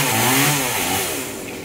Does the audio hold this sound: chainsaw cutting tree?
yes